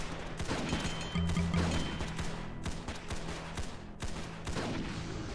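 Rapid bursts of gunfire in Roblox SCP Tower Defense, shooting at a monster, crackling steadily and loud over a layer of game sounds, with no voices.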